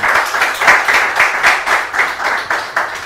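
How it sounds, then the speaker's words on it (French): Lively audience clapping for children at a live French word-game show for kids, a short burst of rhythmic, fairly loud applause with pulsing hand claps close by. "des tonnerres d'applaudissements, s'il vous plaît, pour mes petits décos ici présents"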